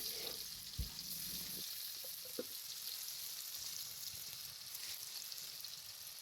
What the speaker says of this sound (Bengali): কারণ ওই কাটা আলুকে আমি প্রথমে কড়াইয়ের ভিতর ভেজে নিব।